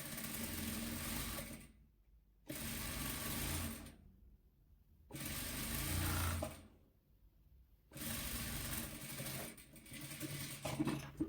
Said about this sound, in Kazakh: Ақ пен көк түсімізді осылай, екінші қоңыр мен қызыл түсімізді де дәл осындай тігіп аламыз.